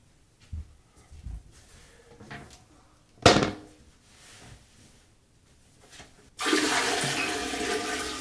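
After a few quiet bathroom clunks and taps, a toilet flushes after urinating with a sudden loud rush of water that continues steadily to the end.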